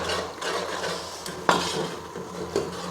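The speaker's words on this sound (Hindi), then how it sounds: "मसाले को मैं अच्छी तरह से भून लूँगी।" Spices being stirred and fried in a pan for a spicy turnip and pea dish, with steady metal scraping and clinking of a spoon against the pan over a soft background sizzle, close and continuous.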